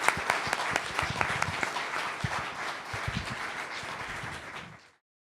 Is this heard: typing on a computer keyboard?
no